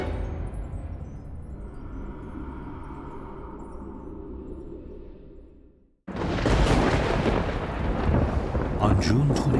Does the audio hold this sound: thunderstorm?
yes